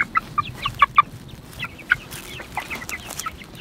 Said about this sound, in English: Chickens on fresh grass.